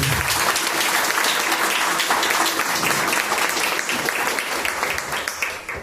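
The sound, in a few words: church congregation applause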